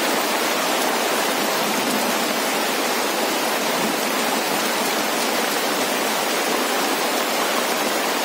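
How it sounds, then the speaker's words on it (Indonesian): Heavy rain pours steadily in a forest near a hut by a mustard-green garden, a dense, continuous hiss with no letup and no voices. "Semoga aja hujan ini tidak berlangsung lama."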